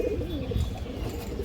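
Two female Muslodom pigeons coo in a low, continuous murmur, soft and close, without any talking.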